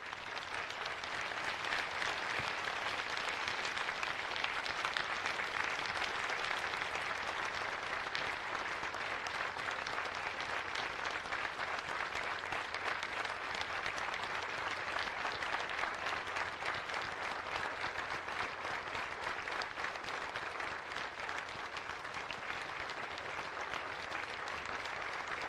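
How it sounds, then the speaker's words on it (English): Sustained audience applause at the Pearl Harbor memorial ceremony in Hawaii, a steady, fairly distant wash of clapping from a large outdoor crowd lasting about twenty-five seconds without a break. "A grateful nation applauds you today."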